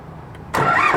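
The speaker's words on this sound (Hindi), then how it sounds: "ट्रैक्टर को स्टार्ट कर लेता हूँ।" The four-cylinder engine of a Digitrac PP 46i tractor cranks and catches abruptly halfway through, settling into a loud, close, steady running roar.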